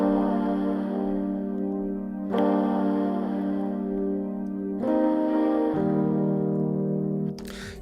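An instrumental beat intro built from a sample and Rhodes electric piano plays steadily, with sustained warm chords that shift at a few points and no voices over it.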